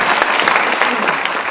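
An audience claps together in a steady, dense burst of applause. It is loud and close, with no voices over it.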